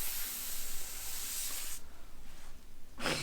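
A Lezyne CO2 inflator from an MTB backpack kit releases gas in a steady close hiss that cuts off, then gives a second short burst.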